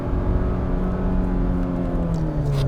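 A 2022 Hyundai Santa Cruz 2.5T Limited makes a rev-match downshift, its engine droning loudly from inside the cabin with the pitch climbing as the revs rise near the end.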